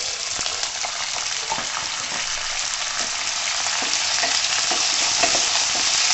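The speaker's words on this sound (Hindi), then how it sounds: "अब मैं इसमें ये जो आलू काट के रखे हैं ये आलू डाल दूंगी।" Steady, loud sizzling of cut potatoes added to frying garlic in a hot pan, with occasional scraping and stirring clicks throughout and no voices.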